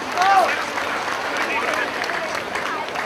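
An audience applauds to welcome a guest on stage at a Sawan religious program, steady clapping from a crowd, fairly distant, under a host speaking over a microphone.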